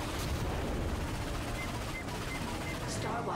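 Dense missile fire and gunshots in the video game Ratchet and Clank form a constant, loud barrage of shots and blasts with no letup.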